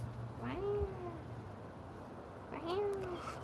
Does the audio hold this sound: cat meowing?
yes